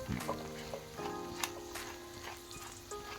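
Chopped garlic frying in a pan over medium heat, a soft steady sizzle with a few light clicks and scrapes.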